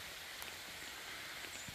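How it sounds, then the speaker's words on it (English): Light rain shower falling on an open field during deer hunting, a soft, steady hiss of drops with occasional faint patters, distant and quiet with no voices. "You can probably hear a little bit of raindrops."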